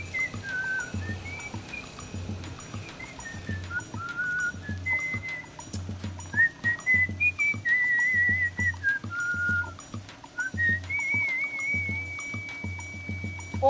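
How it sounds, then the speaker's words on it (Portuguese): A person whistles a wandering melodic tune of clear rising and falling notes, fairly close, over a steady low rhythmic thumping background. "eu escutei tu assobio lá"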